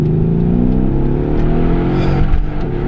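A tuned Mercedes-Benz E63 AMG S with about 690 hp revs hard and climbs steadily in pitch as it accelerates, loud and close, with a dense throaty roar throughout.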